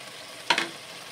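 Food frying in a pan until it browns before ginger goes in: a brief sizzling crackle, two quick bursts of spatter over quiet background.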